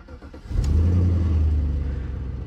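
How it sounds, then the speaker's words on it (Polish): Audi A8 D2 4.2 quattro aluminium limousine starting up: a short crank, then the engine catches half a second in and settles into a loud, steady, deep exhaust idle close by, with no talking. "chciałbym nagrać, jak bardzo przyjemny jest dźwięk tego silnika, wydechów"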